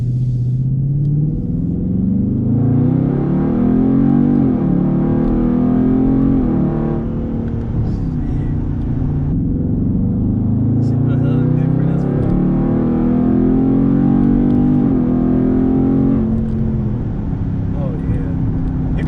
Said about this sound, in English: I actually feel it when you tap the gas a little bit. You can hear like sucking all that cold air.